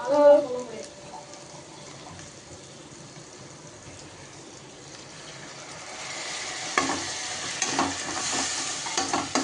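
Tomatoes sautéing in a pan while being stirred, a steady close sizzle with occasional spoon scrapes that grow busier and louder toward the end, after a brief louder clatter at the start.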